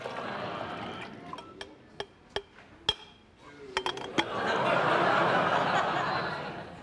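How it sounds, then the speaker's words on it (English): Several sharp glass clinks ring out, then a green liquid is poured into a beaker holding superabsorbent powder. The pour makes a soft, swelling splash that lasts a couple of seconds. "I'm going to take the green liquid. I'm going to add it to this beaker that has the powder in it."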